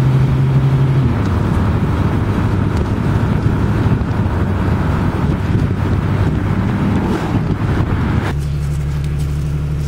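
A Jeep drives on a paved road, its steady engine and tire rumble continuous and close, mixed with heavy wind buffeting, then settling into a lower, smoother hum near the end.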